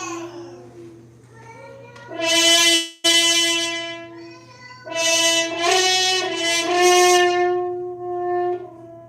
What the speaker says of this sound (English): If I shove my hand all the way in,